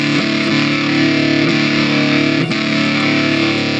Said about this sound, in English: there are so many distortion options.